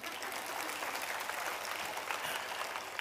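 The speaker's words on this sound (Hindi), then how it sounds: "ताली बजा सकते हैं।" Applause from an audience at a church pilgrimage anniversary gathering in India, steady dense clapping filling the whole stretch, fairly even in loudness with no voices standing out.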